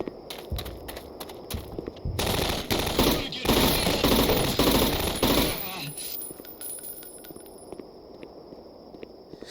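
Rapid bursts of automatic gunfire from Black Mesa played in VR, followed by scattered metallic clinks of spent shell casings dropping around the player, loud and close, with a voice talking briefly.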